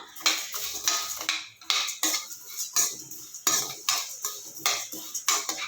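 Ingredients for chutney powder roast in oil in a pan, heard as steady rhythmic scraping and clinking of a metal spoon against the pan, repeating roughly every half second over a faint background sizzle, with no talking.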